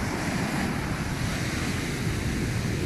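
Steady broadband roar of sea surf washing onto a beach after days of storms, close and continuous, with wind buffeting the microphone and no voices.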